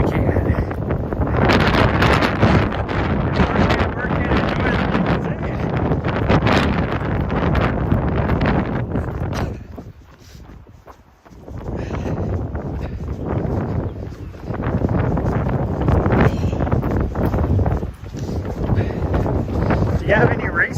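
Strong wind buffets the microphone on a mountain trail on Mt Ascension during a trail run, a loud roaring rush that dips briefly midway before surging again, with speech under it.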